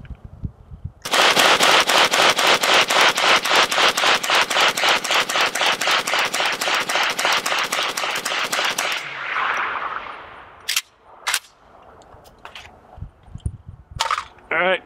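A Century Arms AK63D AK-47 variant rifle fires a long, continuous burst of rapid, evenly spaced shots during a 500-round torture test as the gun heats up. The loud, close burst stops abruptly, then a few scattered shots and clatter follow.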